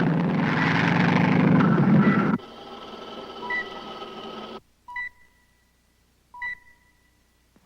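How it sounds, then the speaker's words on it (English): A light civilian plane flying in, heard as a broad engine roar for about two seconds that drops to a thinner droning hum, followed by a few short tonal beeps in near silence. "There's a light civilian plane coming in at 190 degrees. Appears to be in trouble."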